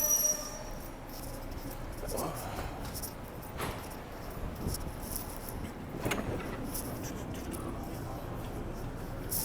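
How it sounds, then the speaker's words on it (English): Commuter train ride heard from inside a carriage: a steady low rumble with faint rattles and occasional squeaks and clunks, quiet and continuous. "They put that big red train in the middle."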